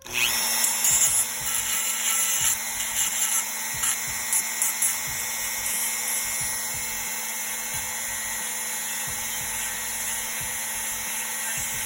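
A steady, high-pitched mechanical whine of a small power sander or rotary tool sanding down a plastic action-figure peg, continuous and close, with a faint low hum underneath.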